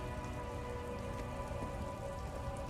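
Steady rain falling in the video game Disco Elysium, a dense, continuous patter on surfaces with a low hum beneath, even and unbroken throughout.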